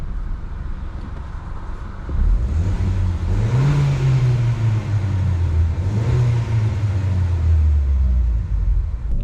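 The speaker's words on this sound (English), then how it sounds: "See if you can hear the car in the tunnel." Peugeot RCZ 2010 with a 1.6 THP 156 HP engine revving in neutral inside a tunnel, a loud echoing rumble that climbs in two rising-and-falling revs over a steady idle, with no talking.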